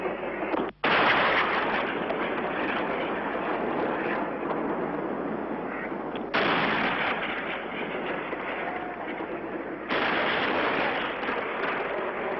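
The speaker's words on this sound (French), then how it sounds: "Nous assistons actuellement à un barrage d'artillerie entre les Israéliens et les Syriens" Artillery barrage between Israeli and Syrian forces on the 1973 front, a loud, dense, continuous roar of booming fire with abrupt shifts in intensity, sounding distorted and rough, without speech.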